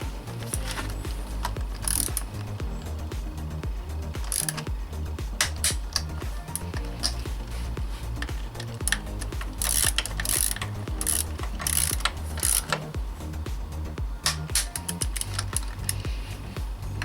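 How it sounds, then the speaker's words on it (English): Ratchet tightening clutch cover bolts on a Kawasaki Z1300 (KZ1300) motorcycle, repeated close metallic clicking strokes in bursts with brief pauses and light tool clinks. "those bolts need to be tightened up to 10 Newton meters also"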